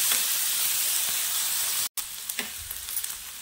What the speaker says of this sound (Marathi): चांगला आहे ना कांदा आपल्याला अजून एखाद दुसरा मिनिट भाजून घ्यायचा आहे